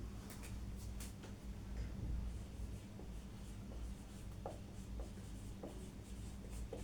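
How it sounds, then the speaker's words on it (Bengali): A word, a noun, is written by hand, giving faint, close scratchy strokes and small taps in irregular bursts over a low steady room hum. It stays quiet throughout, with no talking. "আমি শব্দটি লিখছি, নাউনটি।"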